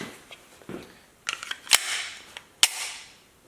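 Sharp metallic clacks and snaps of a semi-auto pistol jamming on a dummy round ring out close, two loud cracks standing out among lighter handling clicks, with no talking.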